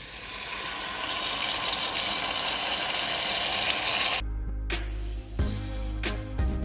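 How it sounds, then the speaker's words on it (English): Strained sauce pours steadily into a pot of pork rib stew with beans, giving a continuous watery rush that stops partway, followed by a few clanks and knocks of the strainer and pot. "So I'm going to go ahead and add our sauce."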